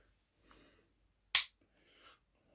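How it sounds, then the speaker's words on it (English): One sharp metallic click-snap as the toggle action of a stiff, brand-new KWC P.08 Luger gas blowback airsoft pistol is cocked, preceded and followed by faint quiet handling noises. "to fire the first shot, you have to cock this"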